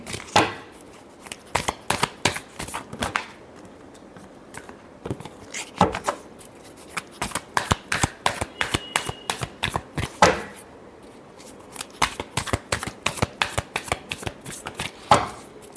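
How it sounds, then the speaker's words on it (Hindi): Tarot cards being shuffled by hand, a series of crisp, rapid riffles and flicks in irregular bursts separated by short pauses, close up and fairly quiet with no talking. "last shuffle"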